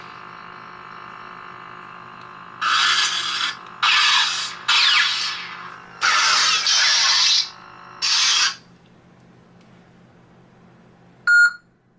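A Plecter Labs Prizm V5.1 lightsaber with a Pixel Photonic blade ignites in several loud, hissing bursts that start and cut off abruptly, with a soft hum between them. A short electronic beep follows at the end.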